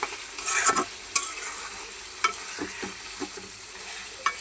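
Chicken meat with spices stirred in a hot pan, giving a soft continuous sizzle broken by several sharp scraping knocks of the spoon against the pan, close by, with no talking.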